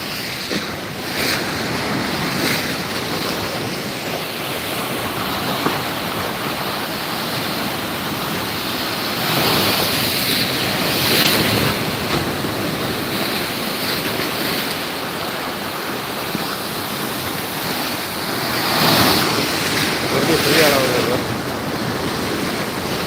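Sea waves at Gandhi Beach, Pondicherry, wash in with a steady roar, several louder surges swelling and fading over constant wind buffeting the microphone, with no voices.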